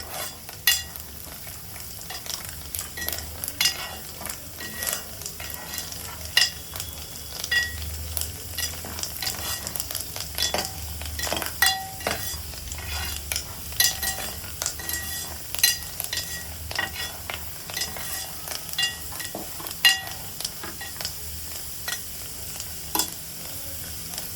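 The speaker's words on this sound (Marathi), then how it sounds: "तुपात तळण्याचं कारण एकच आहे की ते छान क्रिस्पी लागतात नंतर खीरमध्ये, म्हणून ते तळून घ्यायचे असतात." Vermicelli for shevaya kheer frying in ghee until crisp, a quiet continuous sizzle with frequent scraping stirs of a spoon in the pan, no talk.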